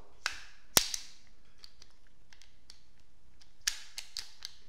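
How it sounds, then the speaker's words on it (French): Sharp metallic clacks as the action of a Drulov 70 .22 LR pistol is closed and locked, two louder snaps followed by several lighter clicks and taps, close up in a quiet room. "je referme, clac, et je tourne à droite et je verrouille."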